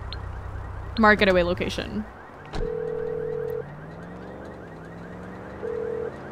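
An electronic alarm tone sounds in bursts in Grand Theft Auto V, a steady pitched beep holding for about a second then returning, following a short spoken line and under low game ambience.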